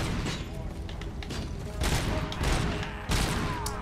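Video game gunfire cracks out in irregular bursts of rapid shots, loud and close, with a voice talking over part of it.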